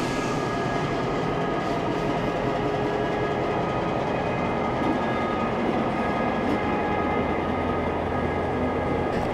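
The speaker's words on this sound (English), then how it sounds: "East Coast Heritage Rail's X54 is seen pulling into Sydney Central with the Cockatoo Run" East Coast Heritage Rail's X54 heritage train pulling into Sydney Central station with the Cockatoo Run, a loud, continuous rumble of wheels and carriages rolling close by, with faint rail clatter.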